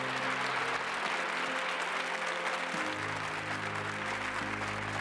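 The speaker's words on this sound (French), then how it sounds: "À la fin, il y a des applaudissements" Applause at the close of a funeral ceremony for Alain Delon, a steady dense clapping that fills the whole stretch at moderate distance, with a low sustained tone running beneath it.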